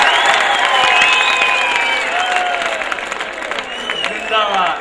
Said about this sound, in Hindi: जरा दोनों हाथ पर उठा करके ताली वाली बजाइए।